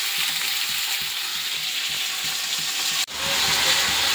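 Cauliflower, potato and beans fry in a pan before any salt goes in, crackling in a steady close sizzle with rhythmic stirring scrapes and a brief clatter near the end.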